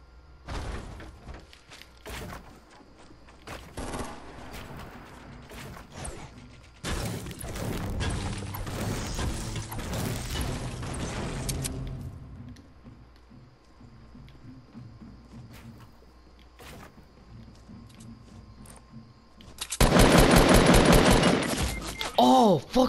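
Fortnite squad match gunfire: bursts of rapid shots, including sniper fire, crackle through the middle stretch and return in a loud dense volley near the end, with quieter game sounds in between.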